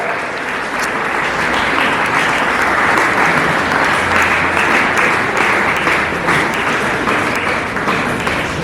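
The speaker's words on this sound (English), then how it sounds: "She deserves a huge round of applause for untiring and sincere efforts." A crowd claps steadily throughout, a dense, even wash of applause with no voices over it, at a school Republic Day event.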